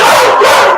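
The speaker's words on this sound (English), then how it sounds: "So y'all hear that? It sounds like that a lot around here. All the barking." Dogs bark loudly and close up at an animal shelter, one continuous bark-yip lasting under a second with no talk over it.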